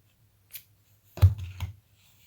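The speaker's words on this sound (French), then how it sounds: "Je vais couper le fil." Scissors snip through crochet yarn in two close, crisp cuts after a faint first click, isolated in an otherwise quiet setting.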